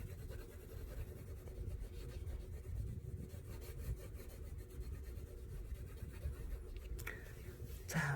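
Colored pencil rubs across paper while a drawing of a figure's clothing is colored in, a soft, continuous scratchy stroking sound that stays faint and close.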